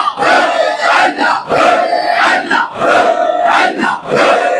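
Crowd at a religious gathering loudly chanting the Nara-e-Haidari slogan in unison, repeated rhythmic shouted calls in surging waves, close and powerful.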